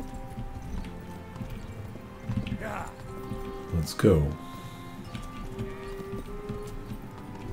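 Hooves clip-clop in the medieval game Kingdom Come Deliverance, a soft, steady horse gait running quietly beneath a man's brief spoken words, with a short louder flurry of movement partway through.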